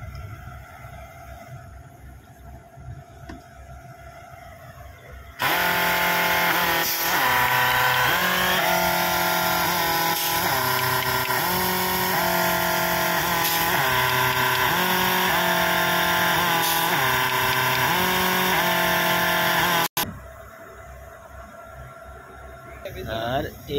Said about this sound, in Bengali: এত বড় বোল্ট হাতে টাইট করা সম্ভব না, যার কারণে এই মেশিনের মাধ্যমে এই বোল্টগুলো টাইট করা হয়।